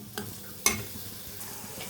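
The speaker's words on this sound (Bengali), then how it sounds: "পেঁয়াজ দিয়ে আমি হালকা আঁচ করে এটাকে ভেজে নিব।" Onions fry gently in hot oil over low heat for a shrimp bhuna, giving a soft, continuous sizzle with one sharp utensil clink against the pan and light stirring scrapes.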